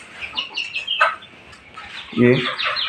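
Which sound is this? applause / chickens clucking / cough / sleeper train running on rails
chickens clucking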